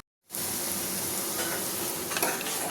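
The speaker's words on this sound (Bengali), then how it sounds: "এবার আমি ভাজবো" Cooked rice fries in hot oil in a pan over a gas flame, a close, loud, continuous sizzle that starts abruptly after a brief silence and carries on with faint stirring scrapes.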